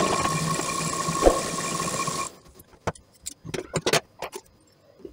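A sewing machine stitching a blouse belt runs with a steady, close mechanical whir for about two seconds, then stops, leaving scattered clicks and small handling knocks.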